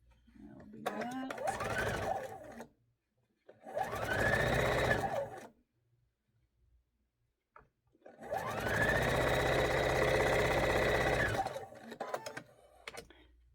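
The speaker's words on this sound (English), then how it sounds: "now I'm going to sew these 2 pieces together" A sewing machine stitches two quilt pieces together for a quick quilt block, running in three loud, close bursts of rapid mechanical chatter, the last one longest, with quiet pauses between them.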